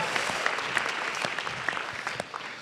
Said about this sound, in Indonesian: Beri tepuk tangan sekali lagi untuk Yono Bakri